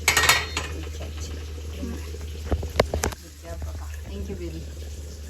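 Marinated fish sizzles and crackles in a very hot clay pot while pots and utensils clatter close by, with a few sharper knocks midway; a voice speaks briefly.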